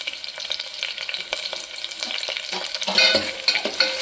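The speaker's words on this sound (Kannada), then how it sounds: "ಚೆನ್ನಾಗಿ ಫ್ರೈ ಮಾಡ್ಕೊಬೇಕು." Green chilies, onion, garlic and curry leaves fry in hot oil for egg sambar, giving a steady close sizzle broken by scraping stirs, with the crackle getting louder near the end.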